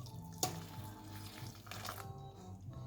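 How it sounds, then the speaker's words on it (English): Hot cream is poured into a bowl of chopped dark chocolate for an orange and dark chocolate tart, giving a soft, steady liquid trickle with a brief splashy clink near the start, quiet and close. "So what you do is just pour the milk, your cream, into the chocolate"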